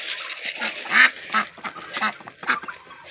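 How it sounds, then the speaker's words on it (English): Nesting mother ducks quacking close by, several short nasal calls in an irregular run over about three seconds, fairly loud with no talk over them. "these are my nesting mama ducks"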